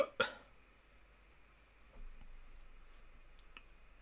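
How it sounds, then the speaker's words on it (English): A single sharp mouse click lands near the start, then near silence with faint room hiss and a few tiny ticks. "So let's click on that."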